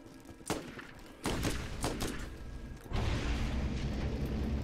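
Video game explosions in Borderlands go off as a rapid run of sharp booms and blasts, one after another, with a dense rumbling roar building underneath and continuing to the end.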